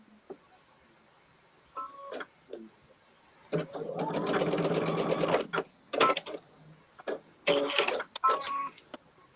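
A sewing machine stitches a quilt block seam in two short runs, a steady rapid whir lasting about two seconds then another brief burst, with faint clicks and handling noises between and light speech around it.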